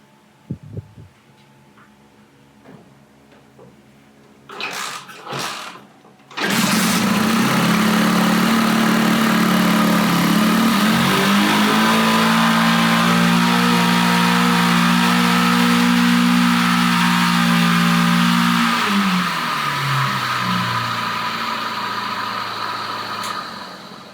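A car engine cranks and catches, then runs loud and close as it is revved and held at higher speed for several seconds before settling back toward idle, during a charging-system voltage check.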